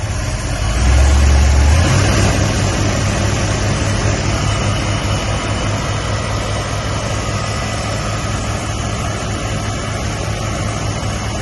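A Chevrolet C10 gasser truck's engine runs after cranking, a loud steady low rumble close by that swells briefly at the start, then settles into an even idle with no talk.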